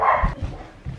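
A dog barks indoors at home, a few short low woofs spaced apart, moderately loud and nearby with no voices over them.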